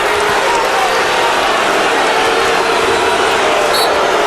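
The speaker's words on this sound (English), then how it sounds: "Crowd is upset because they think that Suton got a little nasty underneath the basket." A basketball arena crowd at a Michigan State–Indiana college game voices its displeasure at a play, a loud, steady wash of booing and murmuring noise filling the hall without a break.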